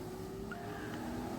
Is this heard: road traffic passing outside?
yes